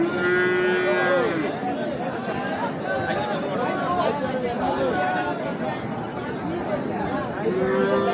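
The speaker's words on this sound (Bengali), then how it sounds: "এখানে একটি অত্যন্ত আকর্ষণীয় শাহিওয়াল জাতের ষাঁড় গরু রয়েছে" A Sahiwal bull at a busy cattle market lets out long, low moos, loud and close, over a constant crowd babble and people talking nearby.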